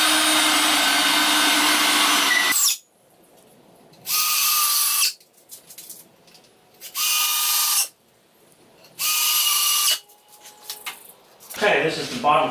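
A power drill drives screws into the bottom frame of a wooden stand in four loud, whirring bursts of a second or two each, separated by quiet pauses.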